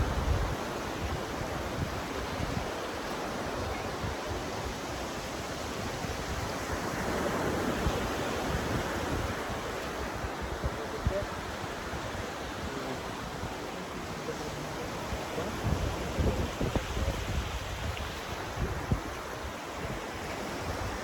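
Sea waves wash steadily onto the shore in a continuous broad rush that swells and eases, with wind buffeting the microphone throughout and no talk.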